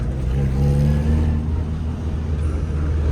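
A Suzuki Samurai with a swapped 1.6L 16V engine drives along, its steady engine drone and road rumble heard from inside the vehicle, loud and continuous with a slight rise in pitch.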